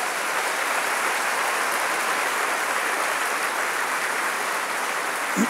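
A church congregation applauding loudly, a dense, even wash of clapping that holds steady throughout with no talk over it.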